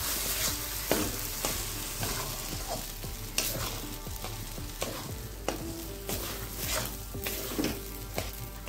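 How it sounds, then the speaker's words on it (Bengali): Taro paste fries and is stirred in a pan over a low gas flame, a steady close sizzle broken by repeated scraping strokes of a spoon, with no voices. "এবার দিয়ে দিচ্ছি কচু বাটা। এবার কচু বাটাটাও এর সঙ্গে একটু নাড়িয়ে নিচ্ছি।"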